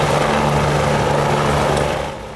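Loud, steady rotor and engine roar of a helicopter close by on the Everest Base Camp trek, a continuous droning whir that eases slightly at the end.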